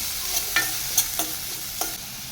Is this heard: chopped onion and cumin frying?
yes